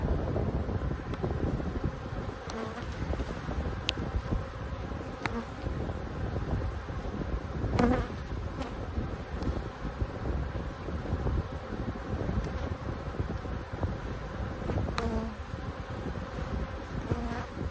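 Wind blowing outdoors around an open beehive, a steady rumbling buffet on the microphone beneath a continuous buzz of bees, with occasional light knocks and no talk.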